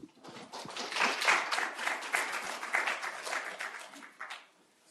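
Audience applause welcoming a speaker to the podium at a medical grand rounds lecture, a steady wash of many hands clapping that swells, holds for several seconds and then tapers off.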